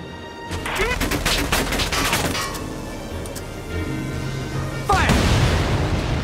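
Gunfire in the video game Valkyria Chronicles 4 during a railway battle: loud, dense bursts of rifle and machine-gun fire with booming blasts, continuous and crackling, swelling again near the end.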